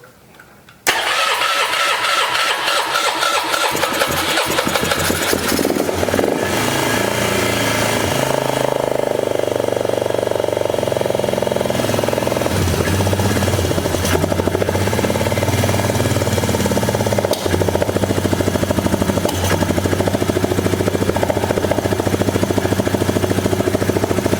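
A Polaris 325/330 Magnum ATV engine cranks over and catches, then runs steadily at a loud, rough idle close by for over twenty seconds, with some voice partly under it.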